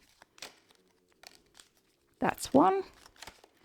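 Tarot cards being shuffled by hand during a pick-a-card reading, a loud papery riffle and crinkle burst near the end, preceded by a few soft card taps and a brief spoken voice.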